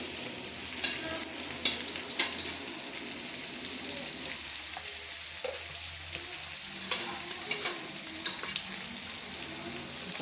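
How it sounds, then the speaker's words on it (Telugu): Sliced onions frying with ginger-garlic paste in a pan for restaurant-style pepper chicken fry, a continuous sizzle with occasional stirring clicks, steady and fairly loud, no talk. "కాస్త వేగాల ఉల్లిపాయలు"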